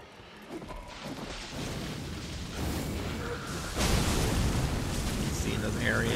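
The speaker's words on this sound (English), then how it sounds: "We're going to be testing Fire's Deadly Sins." Fire's Deadly Sin incantation in Elden Ring unleashes a sustained roaring blaze of fiery explosions, building louder in dense rumbling waves with crackling bursts throughout, close and continuous.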